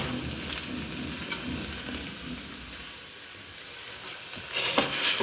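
Tomato masala seasoned with red chilli powder and salt is cooked in a pan, giving a soft, continuous sizzle with faint stirring. The sound grows a little louder near the end, and no one speaks.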